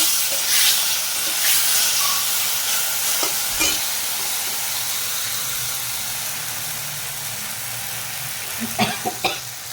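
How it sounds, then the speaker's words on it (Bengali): Ginger, cumin, green chili and cashew paste fry in a hot pan for a Bengali pointed gourd and cashew curry, giving a steady loud sizzle and hiss throughout, with a few brief stirring scrapes near the end and no talking. "এবার দিয়ে দিচ্ছি আদা, জিরা আর লঙ্কা দিয়ে দিচ্ছি, কাজু বাটা। এটা একটু ভেজে নেব।"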